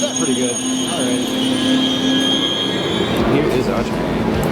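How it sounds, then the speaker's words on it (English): A passenger train pulls into a Swiss station, high metallic wheel squeal ringing over rumbling rails and clatter, loud and close, growing rougher as it slows. "Here is our train."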